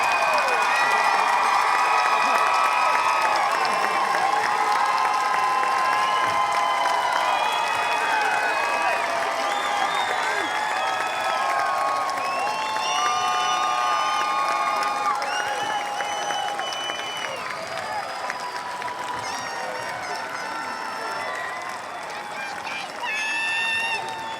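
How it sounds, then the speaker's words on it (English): At a Washington High School commencement for the class of 2022, a large graduation audience keeps up a long round of applause with cheering and shouts. The crowd noise is dense and continuous at first, then slowly tapers off. "will you please join me in another round of applause for the class of 2022"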